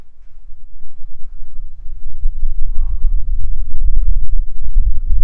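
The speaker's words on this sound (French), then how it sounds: "si vous entendez le bruit du vent" Wind gusts and buffets at the mouth of a large cave some 20–30 metres high, a steady low rumble of microphone-battering air that builds and stays loud throughout, with no talk.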